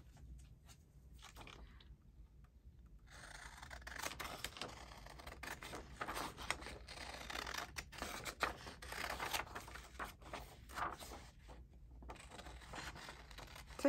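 Scissors snip close by, cutting embroidery out for a journal craft, with repeated short crisp cuts over a quiet background.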